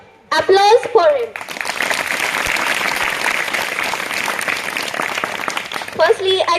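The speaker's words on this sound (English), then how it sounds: "please give a big round of applause for him" A crowd at a student event applauds a guest being honoured, with dense sustained clapping that swells and holds for several seconds before tapering, with brief speech at the start and end.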